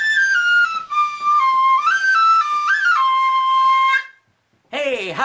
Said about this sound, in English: I'm playing my Irish whistle